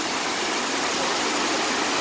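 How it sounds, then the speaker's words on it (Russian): Waterfall at New Athos, Abkhazia, a steady, loud, close rush of falling water that fills the whole two seconds with unbroken broadband roar. "Новый Афон, водопад."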